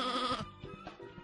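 A sheep bleats in the Sheep Raider video game, one drawn-out nasal cry followed by a few softer, choppy bleats, fairly close and clear with no voices over it.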